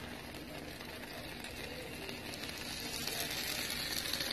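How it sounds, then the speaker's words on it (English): Steady, faint crackling sizzle of chicken frying in a pan, continuous and even, growing slightly louder toward the end. "Listen to that sizzle."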